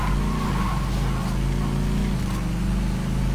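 Car engine in Saints Row 2 revving continuously at steady loud level throughout, a dense low rumble with game background noise and no talk.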